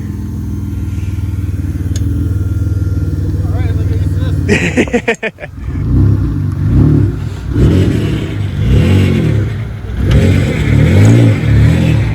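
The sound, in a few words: Mitsubishi 3000GT drift car engine revving on dyno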